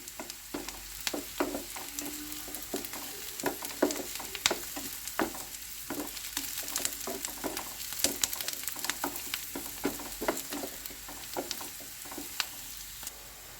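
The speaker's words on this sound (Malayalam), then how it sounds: "സവാള കൂടി ചേർത്ത് നന്നായിട്ട് ഒന്ന് വഴറ്റിയെടുക്കണം അല്പം കറിവേപ്പില ഇട്ട് കൊടുക്കാം" Onions and curry leaves sauté in a pan for an okra mappas curry, giving a continuous crackling sizzle with frequent sharp spatters and light stirring scrapes, close and steady throughout.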